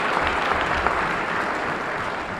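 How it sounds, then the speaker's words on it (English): Audience applause for Dr. Ilambe Brath at a Harlem debate event, a steady dense wash of clapping from a crowd that holds evenly for a couple of seconds with no voices over it. "Another round of applause for a long-time warrior, Dr. Ilambe Brath, Brother Ilambe Brath"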